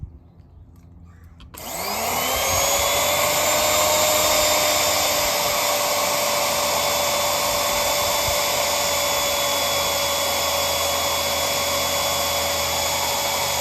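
A Harbor Freight transfer pump, model 63316, switches on after a repair and runs with a loud, steady high-pitched motor whine and hum that holds constant for over ten seconds.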